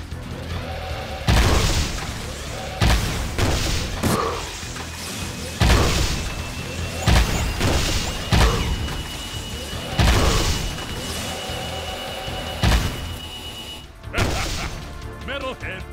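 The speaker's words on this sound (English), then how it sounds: "Metalhead bomb." Metalhead bombs exploding in the video game Jak 2: a run of heavy booms and crashing impacts every second or two, loud and close, with whooshes between them.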